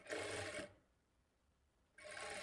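Sewing machine stitching a blouse lining at a quarter-inch margin: two loud bursts of continuous motor whir, one at the start and one at the end, split by a short quiet pause.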